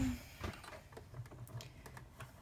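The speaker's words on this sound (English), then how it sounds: "So now I'm going to go ahead and sew it." Sewing machine stitching organic fabric booties, a quiet rapid mechanical tapping with a low motor hum running steadily throughout.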